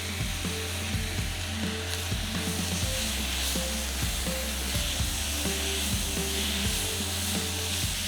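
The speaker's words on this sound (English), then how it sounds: "Saute them together at medium flame until the tomatoes turn mushy." Tomatoes and shredded coconut sautéing over a medium flame for Indian crab masala, a steady close sizzle with frequent light stirring knocks over a constant low hum.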